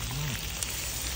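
Pork sizzling on a Thai mookata grill, giving a steady, close hiss and crackle of fat frying on the hot metal.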